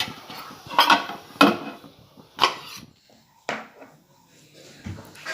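A cooked besan-stuffed paratha being lifted off a pan onto a plate, giving a few separate close clatters and knocks of utensil on cookware with quiet gaps between them.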